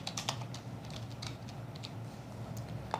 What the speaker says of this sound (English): we're going to type out Nathan and Holly.